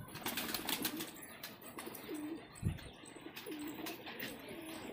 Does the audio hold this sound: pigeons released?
yes